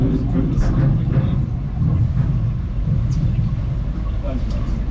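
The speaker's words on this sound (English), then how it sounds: "I'll just leave the engine running so I don't go too far forward." A boat engine idling on the Caledonian Canal gives off a steady low rumble from start to end, with faint voices and outdoor noise mixed in around it.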